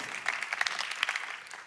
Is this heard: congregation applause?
yes